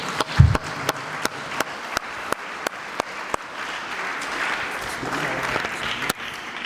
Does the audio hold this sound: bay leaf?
no